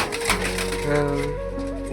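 Pigeons coo softly in a new pigeon loft, a brief close-up murmur of low throaty tones with faint rustling and clicks around them.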